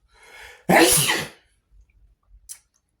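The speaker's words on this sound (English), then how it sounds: "I never sneeze during the readings, but sneeze usually means this is true" A single sharp sneeze bursts out after a brief inhale, loud and close, followed by quiet.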